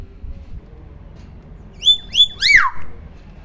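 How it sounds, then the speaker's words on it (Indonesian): A talking hill myna (beo) gives a few sharp whistled calls, with two quick rising chirps followed by a longer sweeping whistle that slides downward, loud and close over quiet background. "Jadi inilah burung beo Raco."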